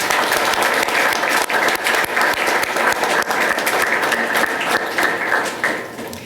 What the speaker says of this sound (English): Let's give all of these special individuals who supported all of you a round of applause.